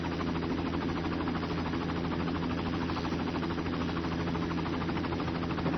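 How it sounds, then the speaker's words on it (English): A video-game helicopter flyby in a police car transport game: a steady droning engine and rotor hum that stays even throughout, with no talking. "The helicopter doing the flyby right now."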